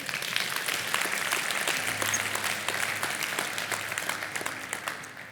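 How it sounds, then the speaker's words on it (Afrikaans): Audience at a Sunday morning church service applauding, with dense, sustained clapping heard close and loud for the whole stretch, lightly thinning toward the end. "Kan ons vir hulle 'n lekker hande klap gee?"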